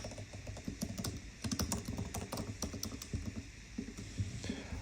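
Quiet, rapid typing on a computer keyboard, a steady patter of close key clicks with brief pauses between bursts, and no one speaking.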